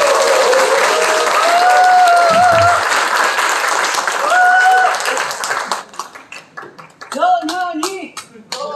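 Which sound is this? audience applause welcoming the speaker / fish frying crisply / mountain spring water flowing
audience applause welcoming the speaker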